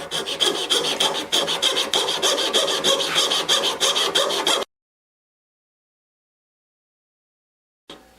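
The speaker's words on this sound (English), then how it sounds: "now we're going to try sawing that out" Hand saw cutting out a small wood inlay piece for a mandolin, steady rapid rasping strokes for about four and a half seconds, close and loud, then silence.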